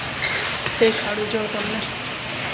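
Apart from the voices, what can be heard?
heavy rain pouring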